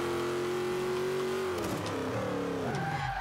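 A 2012 Dodge Challenger muscle car in the Forza 5 racing game revs loud and steady at high pitch, then drops off sharply under hard braking and climbs back up through the gears, with no voices over it.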